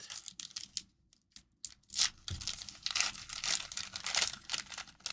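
Foil packs of Donruss Optic football cards are ripped open up close, with sharp tearing and crinkling in bursts. A short quiet pause is followed by continuous loud crinkling.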